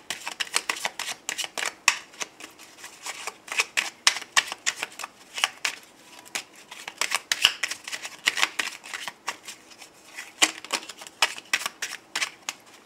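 Angel oracle cards being shuffled for a reading, a dense run of crisp, rapid riffling flicks and slaps in close, steady bursts with no talking.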